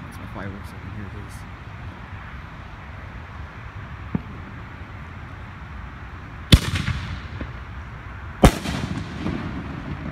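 Bottle rockets and star shells from a small pre-July 4th backyard fireworks show pop in two sharp, loud bangs with crackling tails, over a steady rumble of distant fireworks and faint voices.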